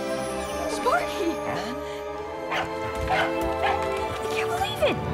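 A dog barks in short yips and bow-wows several times amid a busy mix of voices and other sounds, with people talking throughout.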